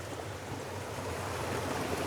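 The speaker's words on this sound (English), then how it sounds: "That's a sluice that's open." Water rushes steadily through an open sluice feeding a water mill, a continuous broadband roar that stays even and fairly close throughout, with no voices.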